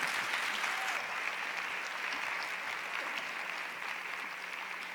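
Steady, dense applause fills a plenary hall at a youth feminist conference as the audience claps for three winners, a continuous wash of many hands at even loudness that eases off only slightly toward the end.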